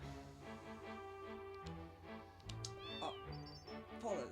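A cat in Final Fantasy 8 gives a couple of short meows over quiet looping game music with soft ticking, the calls brief and fairly faint.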